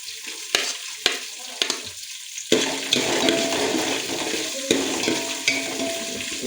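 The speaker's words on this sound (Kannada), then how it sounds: "ಇದಾದ ನಂತರ ಮೆಣಸಿನ್ಕಾಯಿ ಹಾಕ್ಕೊಳ್ಳಿ." Green chillies frying in hot oil for veg pulao, with a crackling sizzle broken by several sharp stirring clanks; the frying swells louder partway through and continues close, with no one speaking.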